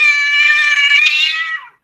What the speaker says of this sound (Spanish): Pero en ese momento se escucha un terrible miau.